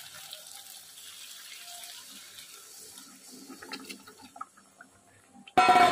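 Water is poured into a pan of simmering Bengali fish curry made with aar fish, a soft low sizzle and faint bubbling giving way at the end to a sudden loud rush of water.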